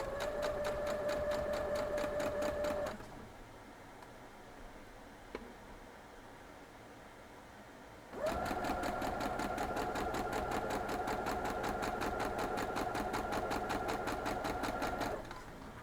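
A sewing machine stitches fabric pieces for a cotton quilt, running in two steady bursts with an even rapid mechanical chatter and a pause between them, close up and alone.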